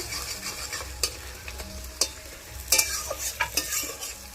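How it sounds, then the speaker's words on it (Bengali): Onions frying with salt in a pan at an outdoor village picnic cook-up, a dry crackling sizzle with irregular stirring scrapes and sharp utensil clacks, up close with no voices. "পেঁয়াজের মধ্যে একটু লবণ দিয়ে দেবো যাতে পেঁয়াজটা তাড়াতাড়ি গলে যায়"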